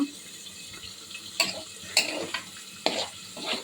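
Bitter gourd fry, with browned onion and garlic mixed in, gets stirred in a pan. Four or five distinct scraping strokes cut over a soft, low background sizzle.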